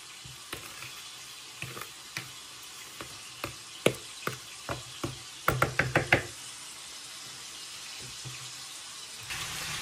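Dough being mixed with salt in a bowl by hand: a series of distinct knocks and scrapes, a quick cluster in the middle, over a soft watery background hiss, with no voices.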